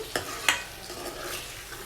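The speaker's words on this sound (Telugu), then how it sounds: "సాల్ట్ యాడ్ చేసిన తర్వాత మరొకసారి అంతా కూడా మటన్ బాగా కలిసేటట్టు మిక్స్ చేసుకోవాలండి" Mutton stirred in a hot pan just after salt is added, giving soft scraping stirs with two sharper spoon strokes over a steady low sizzle, close and fairly quiet.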